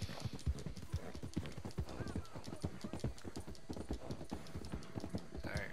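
Horse hooves in the video game Red Dead Redemption 2, a steady rhythmic clip-clop of a galloping horse close up, with a brief whinny, running under quiet talk.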